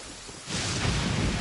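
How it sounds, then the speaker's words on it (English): A downpour with a deep rumble of thunder in the video game Genshin Impact, a steady rain wash that swells suddenly into a loud, sustained roar. "Thunder and lightning can be quite frightening, but don't worry."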